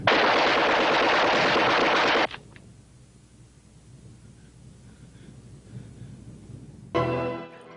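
Sustained automatic gunfire at an execution of dissenters in the war film Inchon, a loud dense rattling burst lasting about two seconds, then quiet murmuring background before another sharp burst of shots near the end.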